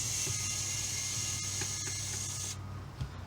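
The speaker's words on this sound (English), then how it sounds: "We do got to remove the one screw underneath it." A screw being backed out of a game console, close ratcheting clicks from a driver in a quick repeating rhythm, fairly quiet and with no speech, stopping near the end.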